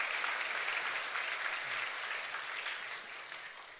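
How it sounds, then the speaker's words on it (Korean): A church congregation at a Sunday service applauds to encourage a young man, a steady wash of clapping filling the room for a few seconds before gradually thinning out, with no talking over it. "박수로 한번 격려하겠습니다"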